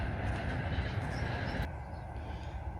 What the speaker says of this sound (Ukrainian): поїзд у нас їде.